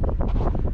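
Strong wind buffets the microphone on top of Park House Hill, a continuous loud roaring gust with rumbling low-end pulses and no speech.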